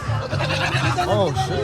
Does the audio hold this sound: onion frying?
no